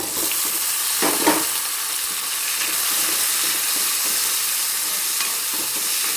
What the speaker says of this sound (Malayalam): നമ്മൾ എടുത്ത് വെച്ച് അരിഞ്ഞു വെച്ചേക്കുന്ന തക്കാളി അങ്ങോട്ട് ഇട്ട് കൊടുക്കാം